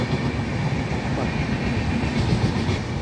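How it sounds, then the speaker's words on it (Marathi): A Central Railway train runs from Pune toward Mumbai, passing close by with a loud, steady rumble of wheels on track and faint rhythmic clatter throughout. "समोर आपल्या जी चाललेली आहे ती पुण्याहून मुंबईच्या दिशेने चाललेली सेंट्रल रेल्वे"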